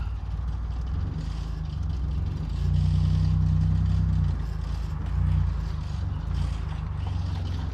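Knight 4000 car engine rumbling and revving up for a burnout, a steady loud low drone that swells in two surges, with some clattering noise over it.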